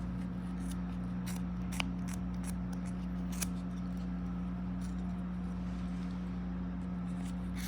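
Scissors snip through a bundle of yarn strands wrapped for a pom pom, several soft crisp cuts in an irregular rhythm, close up over a steady low hum.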